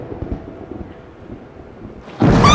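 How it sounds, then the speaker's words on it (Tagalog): Thunder strikes abruptly after a stretch of quiet low rumble, bursting loud and sustained near the end, with a bright crackling edge. "I hate loud thunders."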